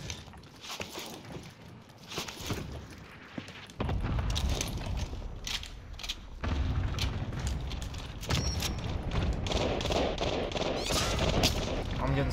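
Gunfire in the video game Call of Duty Warzone, including sniper shots, with sharp repeated reports and bursts over a dense, noisy game background, fairly quiet overall and without talk.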